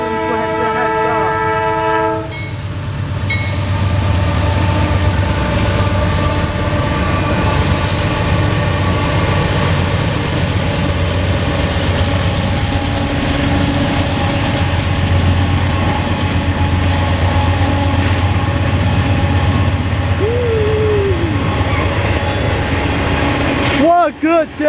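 A Norfolk Southern northbound mixed freight train passes Cooke Road in Columbus, Ohio: loud, steady rumble and clatter of cars rolling by close, opening with sustained horn blasts, with a brief squeal near the end.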